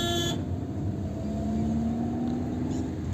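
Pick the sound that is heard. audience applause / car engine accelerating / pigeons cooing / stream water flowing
car engine accelerating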